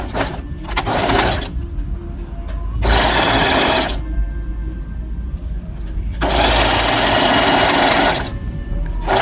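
Sewing machine stitching a fabric seam, running in loud close bursts of rapid needle chatter separated by short pauses, with no talk over it.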